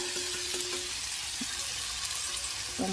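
Boiled spaghetti, cooked the night before, is stir-fried and tossed in a pan for a basil dish, giving a steady close sizzle with a few light utensil clinks and no talking.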